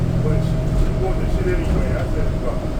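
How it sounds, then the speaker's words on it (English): A SEPTA XDE40 hybrid city bus drives along Route 129 toward Frankford, heard from inside as a steady, loud rumbling drone with a constant whine and road noise throughout. "did you hear this bus? Yeah. This bus sounded horrible."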